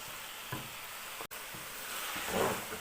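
Grated carrots frying in ghee for gajar ka halwa, a close, steady sizzle with spoon-stirring scrapes and a few louder stirs, no talking.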